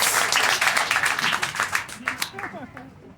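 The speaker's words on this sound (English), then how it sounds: "Everybody give her a big round of applause!" Audience at a magic show bursts into loud clapping and applause that gradually thins and fades, with a voice speaking over it as it dies away.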